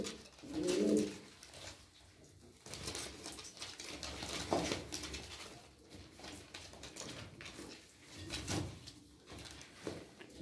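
Tumbler pigeons of the Turkish Paçasız Taklacı breed give soft, low coos close by, a few throaty bursts spaced across the stretch with faint rustling and patter between them.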